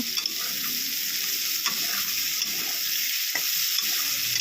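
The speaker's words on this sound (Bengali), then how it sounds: "পটলগুলোকে লাল করে ভেজে নেওয়া হবে পটলের সাথে একটা মরিচও দেওয়া হয়েছে" Pieces of pointed gourd (potol) frying in hot oil with a naga chili: a steady crackling sizzle under occasional stirring scrapes and small pops, close and continuous.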